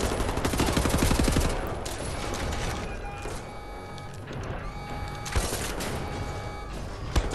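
Dense, continuous enemy gunfire from Wolfenstein: The New Order rattles for the whole stretch, rapid overlapping shots with a few louder cracks standing out, no talking over it.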